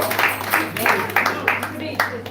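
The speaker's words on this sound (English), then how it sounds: "let's give her a round of applause" Scattered clapping rises from a small devotional gathering celebrating Kartik as a woman is called forward for her birthday. The bursts are uneven and fairly close, and a voice talks over them.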